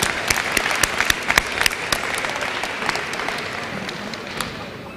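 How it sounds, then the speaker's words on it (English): A crowd applauding at a homecoming convocation, vigorous clapping with loud close claps near the start, gradually easing into a softer sustained patter. "Let's give them a round of applause, please"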